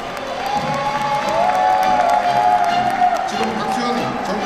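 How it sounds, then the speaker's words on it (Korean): A campaign crowd applauds and cheers as a candidate for Chungnam provincial governor enters, steady loud clapping with shouts throughout, and a sustained tone rising over it. "힘찬 박수로 받아주십시오"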